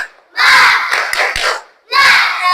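Children chanting and clapping the tepuk semangat cheer together in a classroom, loud bursts of group shouting with hand claps in two bouts separated by a brief pause.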